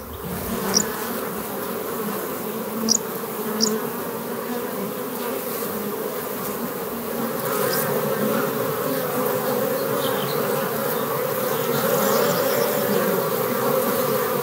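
Honeybees hum around a mix of traditional and modern hives in an apiary, a continuous droning buzz with a few insects passing close by, steady and fairly loud, with no speech.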